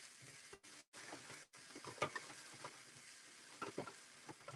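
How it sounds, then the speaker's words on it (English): Onions sweating in a pan, a quiet low sizzle and faint hiss with a few small pops and crackles, brief dropouts near the start, fairly soft and steady, no talking. "With the onions, it's going to sweat it down."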